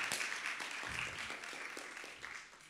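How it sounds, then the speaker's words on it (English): A crowd applauds, steady dense clapping that stays fairly even, then gradually thins and fades toward the end. "Give this guy a round of applause."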